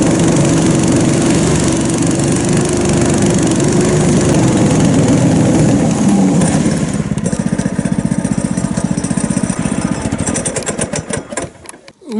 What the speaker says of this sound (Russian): А мы сейчас еще проверим, как мотособака проваливается.